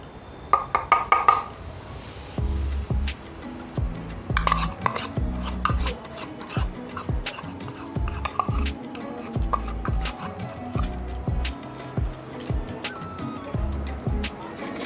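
Milk powder being mixed into ground coconut paste in a bowl for a traditional coconut sweet, with repeated scraping and clinking of a spoon against the bowl at a steady, close rhythm, and a few sharper knocks at the start.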